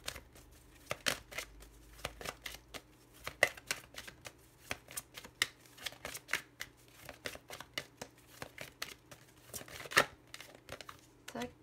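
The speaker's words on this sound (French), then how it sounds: "Je vais tirer maintenant aussi les cartes avec l'oracle des ombres pour préciser." Oracle cards are shuffled by hand in a string of soft, close riffling bursts and slaps with irregular pauses, and a voice is heard faintly between them.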